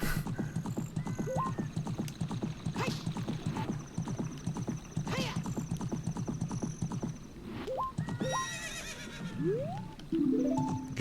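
Horse hooves clip-clop at a steady trot in Zelda: Ocarina of Time, with game music tones and a few short whinnies near the end, all moderately loud.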